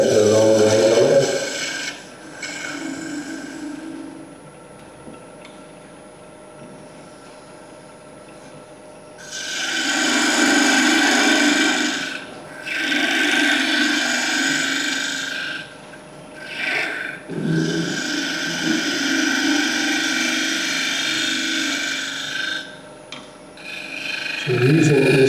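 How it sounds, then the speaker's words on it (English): A 3/8 spindle gouge cuts wood on a lathe at a wood turners' gathering, giving several rasping scraping passes of a few seconds each, close and fairly loud, separated by quieter gaps. "this is 3/8 spindle gouge with a long line on it"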